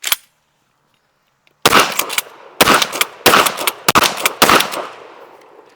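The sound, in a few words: Sulun Arms SPAS-12 pump shotgun firing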